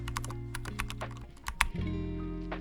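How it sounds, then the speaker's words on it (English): Quick keystrokes on a computer keyboard tap out in a rapid, uneven run, close and fairly quiet over a steady low hum. "Type in your title"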